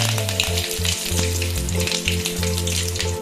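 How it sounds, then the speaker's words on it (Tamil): Mustard seeds, urad dal and chana dal tempering in hot groundnut oil for a mango pickle, a dense continuous sizzle with popping crackles throughout, close and loud, no talk. "நான் நல்லெண்ணெய் சேர்த்துல கடலெண்ணெய் சேர்த்துக்கிறேன் கொஞ்சம் கடுகு உளுந்து கடலைப்பருப்பு மூணு கலந்துருக்கு இது சேர்த்துக்கலாம்"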